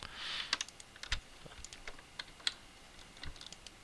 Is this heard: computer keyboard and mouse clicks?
yes